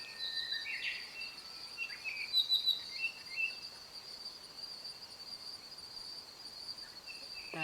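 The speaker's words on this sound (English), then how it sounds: "Lots of birds." Several birds call and chirp faintly in the distance around an evergreen and fern forest on a hike, with steady insect-like trilling underneath and a few brief, brighter calls standing out.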